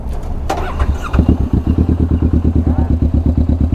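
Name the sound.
motorcycle engine starting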